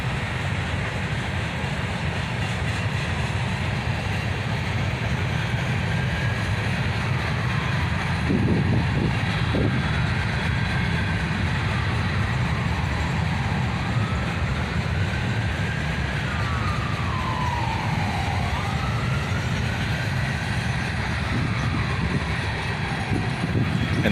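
A CSX freight train hauling hopper cars rolls past in a steady, loud rumble of wheels and cars, with wavering wheel squeal running over the roar.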